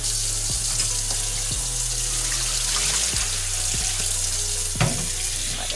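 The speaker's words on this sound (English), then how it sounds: "I just like to rinse it until it's the water comes out, starts coming out clear." Tap water runs steadily into a sink as rice is rinsed to wash the starch out, a constant hiss with a few soft clinks and sloshes, near and without talk.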